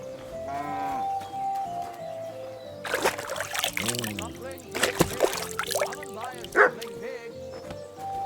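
A dog barks in Kingdom Come: Deliverance II on PS5, a few loud rough bursts mixed with deep cattle lowing and a voice talking, all close and busy.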